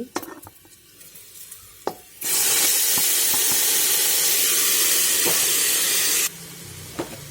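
Dal tipped into hot oil with frying garlic and green chili erupts into a loud, sustained hiss that runs for about four seconds and then cuts off. Quieter clinks and stirring come before and after it, with no talking.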